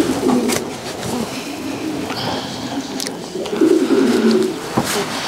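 Racing pigeons in a loft, including a top flying cock, coo loudly and steadily in rounded, overlapping bursts, with sharp clicks and scuffles scattered among the calls.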